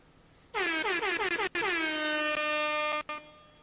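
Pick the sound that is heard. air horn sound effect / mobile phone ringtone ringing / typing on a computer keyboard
air horn sound effect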